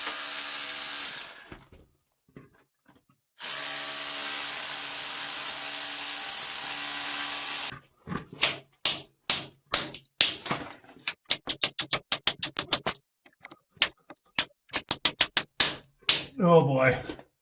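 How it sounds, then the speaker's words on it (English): A small rotary hammer with a chisel bit chips ore off the hanging wall inside a gold mine. It opens with two sustained roaring bursts, then breaks into rapid, sharp hammering in short uneven blows. "I got my little roto hammer, little hammer chisel."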